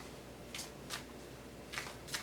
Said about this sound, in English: let's go ahead and get shuffling here